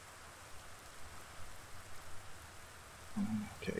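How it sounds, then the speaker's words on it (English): Steady rain hiss falls in a survival video game, a soft even wash of drops with a brief low thump near the end. "keep in mind it's raining pretty good"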